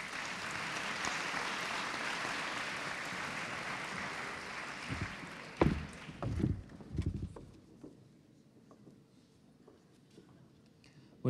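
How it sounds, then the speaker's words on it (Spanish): Audience applause at a school debate tournament event, a steady clapping crowd for about five seconds that breaks off into scattered claps, footsteps and handling thumps in a quieter room. "Fuerte aplauso,"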